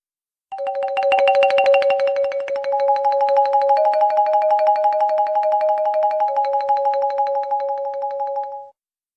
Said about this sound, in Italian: Xilofono.